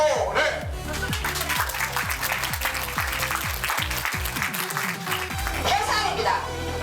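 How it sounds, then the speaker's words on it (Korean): Audience applause at a youth startup team award ceremony in Busan, a broad sustained wash of clapping filling the room, with voices and background sound running beneath it. "큰 박수 부탁드립니다"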